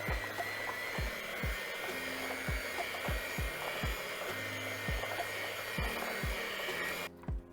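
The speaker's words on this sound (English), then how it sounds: "Now we're gonna whisk this together, blend this together with the hand mixer" An electric hand mixer blending butter for peanut butter blossom cookie dough whirs steadily at moderate volume, with regular rhythmic knocks as the beaters hit the bowl, then stops near the end.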